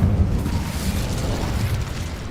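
A fiery Incendio spell blast in a Harry Potter–style video game, a loud sustained roaring burst with heavy low rumble that fills the whole moment without talk.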